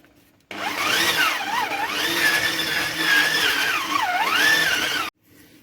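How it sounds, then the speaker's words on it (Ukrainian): An electric hand mixer runs steadily through cookie dough in a home kitchen, its motor whine loud and close, with slight pitch dips as the beaters load, starting and stopping abruptly, no talk. "вмикаю міксер, щоб борошно не розліталось мені по всій кухні"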